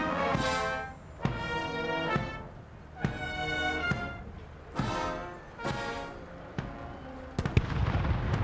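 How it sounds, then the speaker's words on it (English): Ceremonial minute guns fire from Green Park in London for the 2002 funeral of Queen Elizabeth The Queen Mother: several heavy, spaced reports cut through a sustained tonal sound, with a final cluster of sharper bangs near the end. "The minute guns fire from Green Park."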